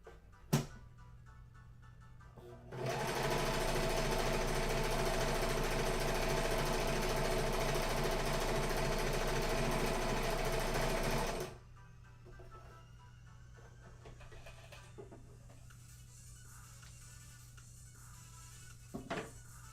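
A sewing machine stitches fabric for an Among Us plushie in one loud, rapid, steady rhythmic run of about nine seconds, framed by quiet handling clicks and small knocks before and after.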